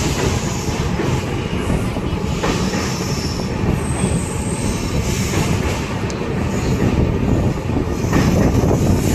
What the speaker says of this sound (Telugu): ఇక్కడికి వచ్చినప్పుడు ట్రైన్ క్రాస్ అవుతుంటే